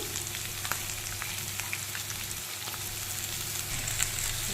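Crushed ginger, garlic and green chilies fry in hot oil in a pan, a steady, fairly quiet sizzle holding even throughout with no talking.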